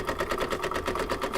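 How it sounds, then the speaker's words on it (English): Rapid rhythmic needle clatter from an embroidery sewing machine sewing a decorative zigzag stitch, brief, close and steady with no talk. "this is a little decorative zigzag stitch"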